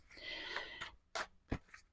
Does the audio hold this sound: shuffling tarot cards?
yes